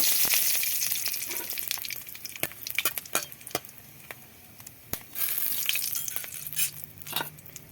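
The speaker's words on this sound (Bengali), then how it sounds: "কড়াইতে তেল দিয়েছি তেলটা গরম হয়ে গেছে দুটো জিরে দুটো শুকনো লঙ্কা তেজপাতা" Cumin seeds, dried red chillies and bay leaf sizzle in hot oil in a kadai, a close crackling fry with sharp pops and spatters scattered throughout, no voices.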